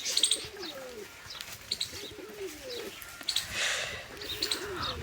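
White pigeons, a mated pair, coo in a loft with repeated soft rolling calls, joined by a few higher chirps and brief wing flutters, close by and moderately quiet, with no talking.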